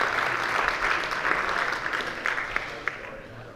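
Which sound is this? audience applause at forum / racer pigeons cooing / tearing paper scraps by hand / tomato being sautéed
audience applause at forum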